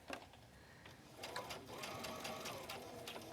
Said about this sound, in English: I'm going to stitch right down to that blue line, right there.